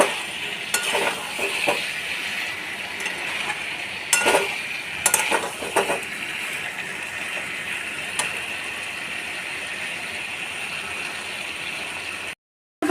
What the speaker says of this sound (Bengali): এবার পটলটা দিয়ে খুব ভালোভাবে কষাতে হবে।